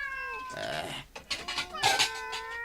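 A cat meows several times in drawn-out, rising and falling cries, close by, with a bit of faint background noise between calls.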